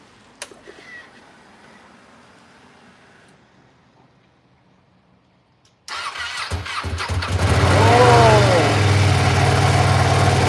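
A Ducati V2 motorcycle that hasn't run in a while is cranked and fires up, catching suddenly after near silence and then revving roughly into a loud, uneven idle close by.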